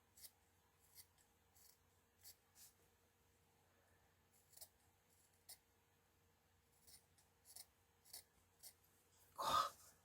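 Scissors make a series of soft, scattered snips while cutting an embroidered white tablecloth, quiet and close with irregular spacing, and a louder rustle or breath comes near the end.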